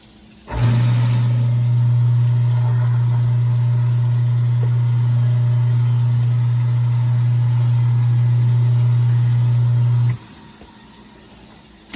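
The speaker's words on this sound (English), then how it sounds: "Turn the garbage disposal on and see if water goes on." Kitchen garbage disposal running mid-remodel, a steady loud motor hum with a strong low drone that starts abruptly, holds evenly for about ten seconds and cuts off sharply.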